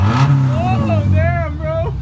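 A Subaru Legacy with its muffler deleted revs loudly up close, a deep rumbling drone with rising and falling engine tones. Excited voices talk over it.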